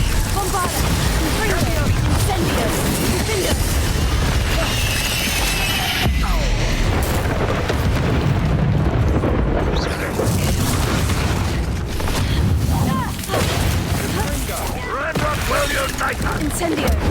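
Explosive spell blasts such as Bombarda and Confringo in the Hogwarts Legacy game hit as dull booming bursts under a dense, continuous layer of combat noise. The mix stays loud throughout, with a voice calling out over it.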